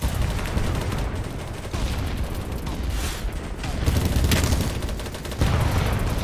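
Rapid automatic fire from the player's gun in BattleBit Remastered crackles continuously and loudly at close range, with a few heavier booms mixed into the steady stream of shots.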